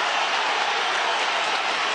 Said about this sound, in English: The crowd trying to rally their hero, Mickey Romine, in his title fight through five.